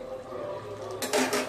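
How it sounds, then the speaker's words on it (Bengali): A spatula scrapes and clatters against a wok on the stove as food is stirred, with a couple of short metallic knocks near the end over a quiet background hum. "আবার একটু নেড়ে চেড়ে"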